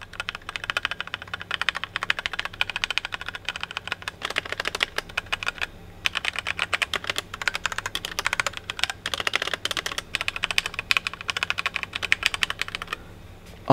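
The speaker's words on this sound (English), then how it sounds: "Yes, I did pick the Cherry MX Red so that it's kind of quiet when I'm trying to sneak a couple of games in." Fast, continuous typing on a HyperX Alloy Origins Core keyboard with Cherry MX Red switches, the rapid clicky keystrokes close and crisp with only brief pauses between bursts.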